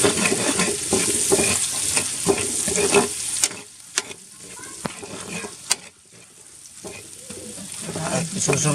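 Ginger frying in a pan while pork binagoongan is being cooked, a steady close sizzle with scraping stirs and a few sharp clinks of utensil on the pan, with a brief quieter lull midway.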